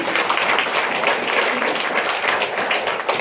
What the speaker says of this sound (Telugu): అసలు చప్పట్లు కొట్టండి అందరూ